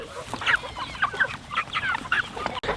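Hybrid fast-growing meat chickens on a permaculture homestead cluck in short repeated bursts, several birds close by with no talking.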